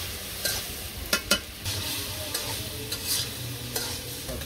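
A village-style curry stir-fried in a pan: continuous sizzling broken by several sharp scraping strokes and clinks of the spatula against the pan, close and fairly loud, with no talk.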